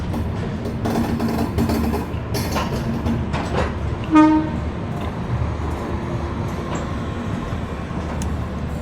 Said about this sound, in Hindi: फाइनली अभी अपनी ट्रेन निकल चुकी है शकुर बस्ती रेलवे स्टेशन से